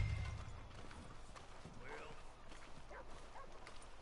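Horse hooves clip-clop in Red Dead Redemption II, soft and fairly distant, mixed with a dog's yips and faint voices in the background.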